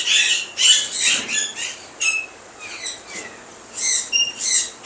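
Pet birds of a dark red factor variety, sold as breeding pairs at Multan's Sunday bird market, give repeated high chirps and squeaky calls in close clustered bursts with short pauses, and no one speaks.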